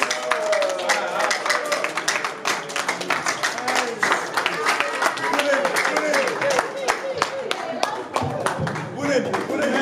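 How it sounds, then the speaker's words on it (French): An audience claps in a steady, dense round of applause at a music performance, with sharp individual claps standing out close by and scattered voices mixed in throughout. "Sous vos applaudissements, merci."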